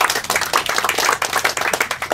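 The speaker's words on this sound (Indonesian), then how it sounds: "Kita tepuk tangan dulu buat Pelindo dulu." An audience at an outdoor tree-planting event with the NTT governor claps for Pelindo officials, a dense, steady patter of many hands sustained for a couple of seconds.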